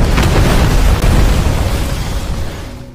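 A bomb explosion in the film Athena: a loud, deep, roaring blast with a dense low rumble that slowly fades over several seconds.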